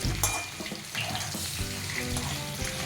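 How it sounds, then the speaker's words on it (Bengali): Cubed potatoes frying in hot oil with dried red chilli and bay leaves, a steady dense sizzle with occasional stirring scrapes throughout. "দিয়ে সব কিছু ভালো করে একটু ভেজে নিচ্ছে। একটু লাল লাল করে ভেজে নিতে হবে।"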